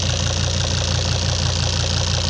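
A Volvo D5 diesel engine runs at a steady idle during an injector leakback test, with a loud, even, knocking clatter close by and no voices.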